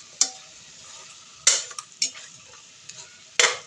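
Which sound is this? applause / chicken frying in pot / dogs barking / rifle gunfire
chicken frying in pot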